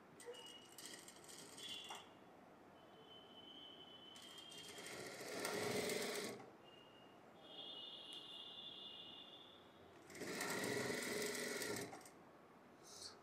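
A sewing machine stitches piping onto a boat neck blouse in three rapid, rattling runs of several seconds each. Quiet gaps fall between the runs, with faint handling and a thin whine.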